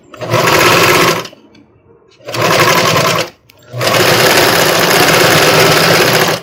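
Sewing machine stitching a bra strap and backstitching, three loud close bursts of rapid mechanical whirring separated by brief stops.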